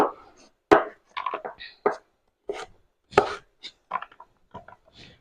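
A knife chops an onion on a cutting board during kitchen meal prep, sharp uneven knocks spaced irregularly and close by, with quieter slicing sounds between strikes.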